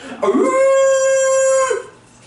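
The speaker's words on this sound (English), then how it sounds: "She usually howls whenever we do that." A pet dog lets out a single sustained, close, loud howl with a steady tone, rising at the start and trailing off after about a second and a half.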